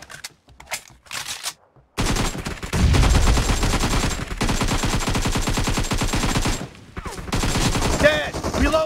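Rapid automatic gunfire rattles in a video game, with a few short bursts followed by sustained, dense strings of loud shots. The fire pauses briefly, resumes, and a voice calls out near the end.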